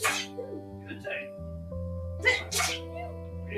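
Several sharp sneezes burst out over steady background music, the last two close together and loud, with people talking in between.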